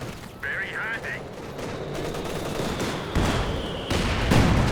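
Battlefield gunfire from the Company of Heroes 2 strategy game, a steady wash of shots, explosions and combat noise with a short tonal alert near the start and rising intensity toward the end, under commentary.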